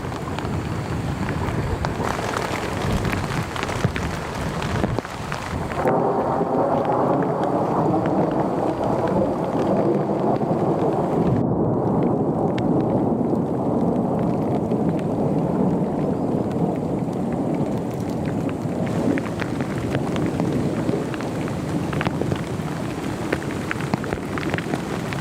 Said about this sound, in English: she could hear the water pounding against the fabric and the storm roaring above